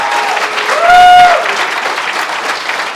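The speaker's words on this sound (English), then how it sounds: "Another round of applause for these incredible champions" Applause from a room of guests at a recognition ceremony honouring champions, a steady broad clapping wash for about three seconds with a brief whistle or cheer rising in the middle.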